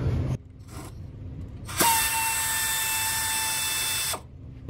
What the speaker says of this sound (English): Careful with an air ratchet on a starter, you can break the starter solenoid.